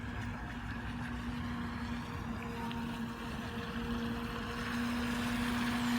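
A CAMRAD 800 fishing bait boat with a Falcon 5010 motor runs steadily across open water, its motor giving a continuous whine over a broad wash of water and wind noise, holding an even level throughout.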